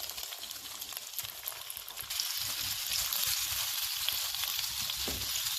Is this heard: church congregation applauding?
no